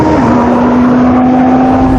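Audi R8 and Audi RSQ8 at full throttle in a runway drag race, a loud sustained engine drone holding a steady high pitch through the short burst, with no talking.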